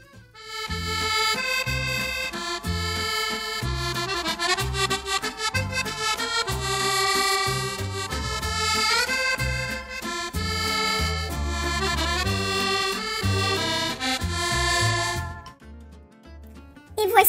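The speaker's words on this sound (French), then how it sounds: "Voici celui d'un accordéon." An accordion plays a lively tune of reedy chords over a pulsing bass pattern. It is loud and continuous for about fifteen seconds, then stops abruptly.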